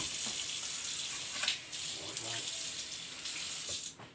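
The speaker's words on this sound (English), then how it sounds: "Wash that off right quick. Wash this board off again." Tap water runs steadily into a sink while a cutting board is washed. It makes a fairly quiet, continuous hiss with small splashy changes.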